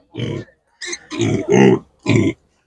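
Piglets at an animal market grunt in four short bursts, close and fairly loud, with brief pauses between them and no other talk.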